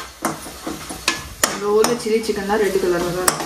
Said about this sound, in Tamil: நல்லா ஃப்ரை ஆயிட்டு இருக்கு